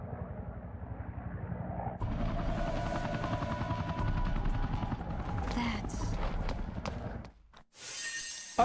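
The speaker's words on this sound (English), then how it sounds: "that was the helicopter that last time took Dante to the factory, which then goes to the oil field" A helicopter in the video game Devil May Cry 2 rotor-thumps in a steady pulse under game noise, with a burst of shattering and a sharp crash near the end.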